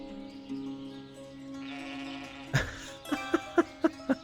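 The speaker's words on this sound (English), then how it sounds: "That's a ton of sheep." Several sheep in the Ostriv farming game bleat over a soft ambient music bed, with a cluster of short, evenly spaced bleats close together near the end.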